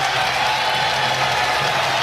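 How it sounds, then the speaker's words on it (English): A basketball arena crowd applauds Derrick Rose's effort during a game, a steady, dense wash of clapping and crowd noise lasting the whole moment without a break. "applauding the effort out of Derrick Rose here tonight"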